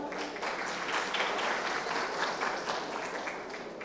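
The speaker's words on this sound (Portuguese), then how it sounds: "Uma salva de palmas para ela." Audience applause at a Women in Mining workshop event, a steady dense wash of many hands clapping at moderate volume throughout, with no voices over it.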